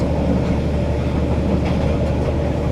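A train runs along rails through farmland and hills in Vietnam, a steady low rumble with faint rhythmic clatter heard from inside the carriage, loud and continuous.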